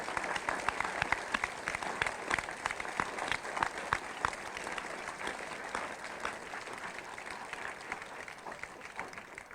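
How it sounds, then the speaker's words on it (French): Steady, dense applause fills a municipal council installation meeting hall in Dieppe, a crowd clapping continuously at an even level for the full stretch without pause. "Vous pouvez les applaudir."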